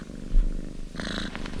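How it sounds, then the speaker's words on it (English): A cat purrs in a low rumbling, pulsing drone, close and moderately loud, with a brief higher-pitched sound layered over it in the latter half. "I can't stop the purring."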